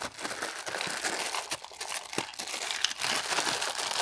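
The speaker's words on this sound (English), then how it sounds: "take the plastic stuff off" Plastic packaging crinkles and crackles steadily as it is peeled off a Minn Kota Talon 360 anchor light, a close, continuous rustle with sharper crunches throughout and no talking.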